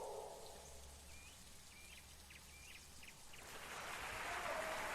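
Rain falls in the survival game The Isle, a soft, faint steady patter with a gentle hiss that swells toward the end, with a few distant chirping bird calls over it.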